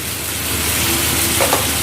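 Chicken in a pan gives a loud, steady sizzle and crackle, with a brief scrape of stirring near the end. It sounds close and continuous, with no voices.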